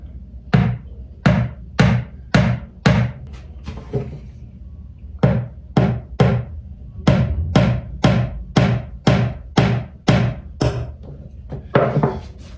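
Sharp, ringing hammer taps driving N gauge model railway track pins, in quick bursts of two to four, repeated steadily at close range with short pauses between groups.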